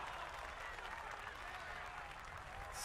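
A golf gallery in the EA Sports PGA Tour video game applauds and cheers, a steady wash of clapping and crowd noise that stays faint and continuous.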